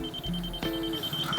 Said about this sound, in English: we can set this right here, and you'll see it's actually beeping